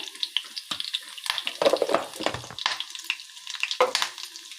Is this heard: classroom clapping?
no